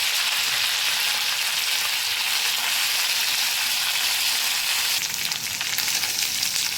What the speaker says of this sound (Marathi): यातच बटाटे पण टाकते आणि हे फ्राय करून घ्यायचे थोडं.